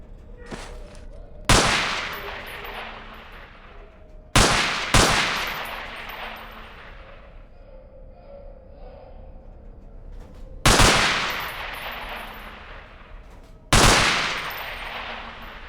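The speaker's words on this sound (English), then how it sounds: "Let's get to the submachine guns now. Pick up that MP5." Short bursts from an MP5 submachine gun in Half-Life 2's Underhell mod, fired at pop-up targets in a shed: four separate loud cracks, some in quick pairs, each ringing out against a quiet background.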